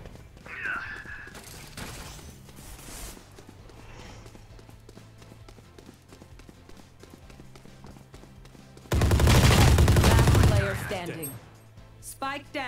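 Gunfire in the competitive shooter Valorant: a few scattered shots give way to a loud, dense burst of rapid fire near the end, mixed with game effects.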